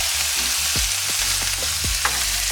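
Loud, steady sizzling and crackling of shrimp frying in a pot, with occasional low scraping as it is stirred.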